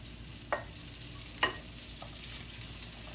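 Pineapple rice gets stirred in a hot pan, with a soft continuous sizzle and two distinct scraping strokes of the utensil, close by.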